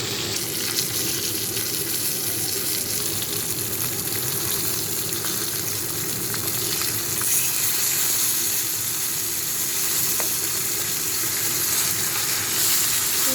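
Koi fish fry in a pan with a steady, dense sizzle of hot oil that carries on unbroken at moderate loudness throughout, without any voices.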